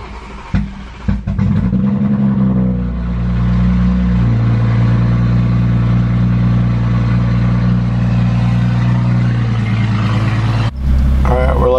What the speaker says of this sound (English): let's get a cold start before I put this little camera away in the back